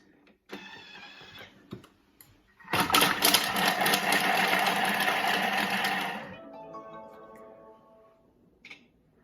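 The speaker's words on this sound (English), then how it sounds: "So it asks me turn speed selector to speed 5. That's what we're going to do, and it's going to chop the onions." A Thermomix TM6 chops onions at speed 5, a loud motorized whir lasting about three seconds. Quieter mechanical clicks and hums come before the chopping and after it.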